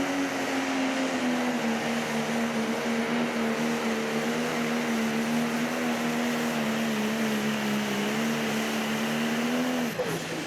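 Pro stock diesel pulling tractor engine at an outdoor tractor pull holds a loud steady droning roar with a strong sustained tone for about ten seconds, then cuts off abruptly at the end.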